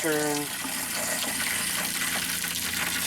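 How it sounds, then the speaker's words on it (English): A kitchen sink tap runs steadily, its water rushing loud and continuous from start to finish, with a short tonal whine at the very beginning. "I will turn on the kitchen sink and we will flush a little bit of that pink stuff out"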